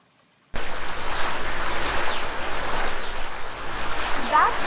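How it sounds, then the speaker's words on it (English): Chunayamakkal waterfall on a river in forest near Munnar, a steady broad rush of falling water starting abruptly after a brief silence and continuing loud and even, with a faint voice under it. "It is a beautiful waterfall in a scenic location amidst the forest."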